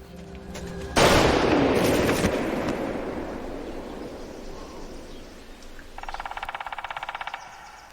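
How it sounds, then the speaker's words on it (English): A gunshot in a film scene where a hunter shoots a man: a sudden loud blast with a long decaying echo, then a rapid rattling burst near the end. "He finally was shot by the hunter."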